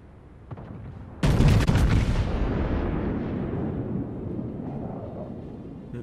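A Montana battleship in World of Warships fires a full main-gun salvo, a sudden loud booming blast that rolls into a long, fading rumble with no voices over it.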